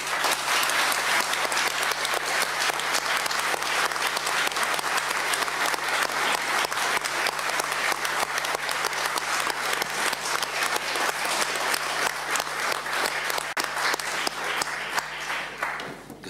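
Sustained applause from a large crowd after an official speech by the President of Venezuela's National Assembly, dense and loud throughout, easing slightly at the end.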